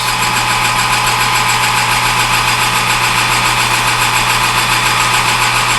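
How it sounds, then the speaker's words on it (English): A metal lathe turns steadily at about 800 RPM while hard turning an eBay headstock center, giving a loud, even mechanical hum and whine that holds unchanged throughout with no talking. "I'm going to try it about 800 RPM, and we're going to give it a whirl, see what happens."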